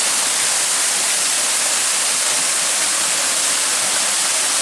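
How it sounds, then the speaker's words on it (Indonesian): Lower tier of the Jolotundo waterfall, a steady broadband rush of falling water that stays loud and even throughout, with no voices over it. "kemudian air terjun"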